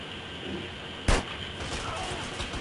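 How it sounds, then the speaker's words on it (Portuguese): Gunfire in a multiplayer video game with two players shooting, one sharp loud shot crack standing out over a steady background rumble. "Dois atirando em mim."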